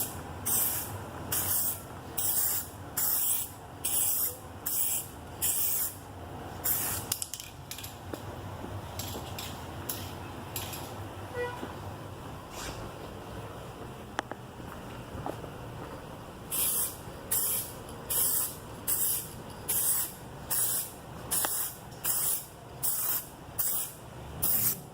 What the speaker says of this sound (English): Once it's smooth, you spray.